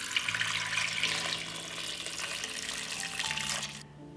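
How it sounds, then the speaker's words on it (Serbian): Water runs steadily from a tap into a cooking pot holding a kilogram of white potatoes, a continuous splashing pour that tapers off at the end. "Sipat ću vodu da prekrije krompir."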